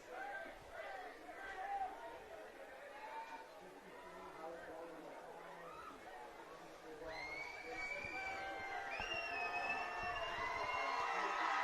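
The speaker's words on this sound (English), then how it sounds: "The Big Red crowd is getting loud." A home crowd at a high school football game between Warrenton and Washington chatters and shouts, with the noise rising in a growing swell of cheering toward the end while people talk nearby.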